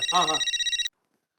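A phone ringtone trills in rapid pulsing bursts, loud and close, with a brief voice at the start, then cuts off abruptly into silence.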